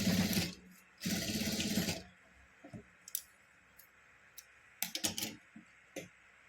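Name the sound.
sewing machine stitching a bag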